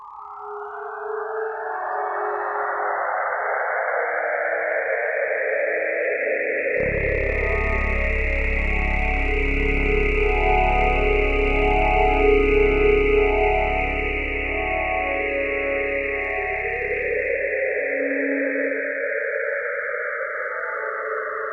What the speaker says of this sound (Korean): 토성 역시 자기장을 가지고 있고 비슷한 방식으로 전파가 발생합니다.